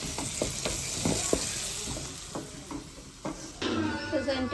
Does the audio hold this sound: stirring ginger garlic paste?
yes